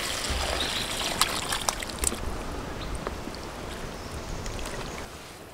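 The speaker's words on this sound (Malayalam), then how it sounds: "നമുക്ക് കൊടംപുളി ഇട്ട് വെച്ച വെള്ളം ഇതിലേക്ക് ഒഴിച്ചു കൊടുക്കാം" Water soaked with kudampuli (Malabar tamarind) is poured into a Kashmiri chilli fish head curry masala, giving a soft, continuous trickle and splash at low volume with a few sharper drips.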